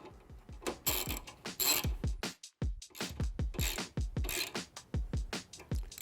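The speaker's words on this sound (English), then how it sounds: "Using our T30, we're going to tighten this down." A T30 Torx driver ratchets a pivot knuckle screw tight on a 2-door Bronco Trektop, with a rapid run of close, crisp clicks in bursts and a brief pause midway.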